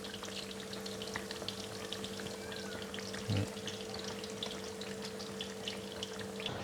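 Chicken and fish fry in oil with a soft, continuous crackle and scattered pops, set over a steady low electrical hum and heard at moderate distance.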